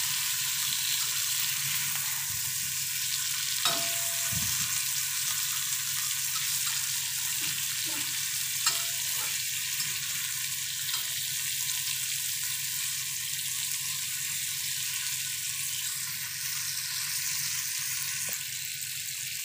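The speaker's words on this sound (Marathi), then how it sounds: "पलिताने परतून घेतलेला आहे" Chicken sautéing on a tawa, stirred and turned with a spatula, gives a steady broad sizzle throughout with a few sharp clicks and scrapes of the spatula against the pan.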